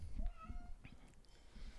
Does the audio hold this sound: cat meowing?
yes